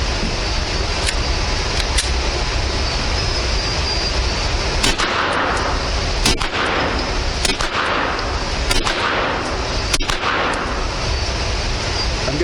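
A Glock 19 pistol fitted with a Tyrant suppressor fires several muffled shots at uneven intervals, each a sharp crack over steady outdoor background noise.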